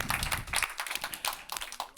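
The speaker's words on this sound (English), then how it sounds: "I don't know if later or now we should give a round of applause to everyone" Brief applause from an audience at an academic talk, with many hands clapping in a dense, close patter for about two seconds.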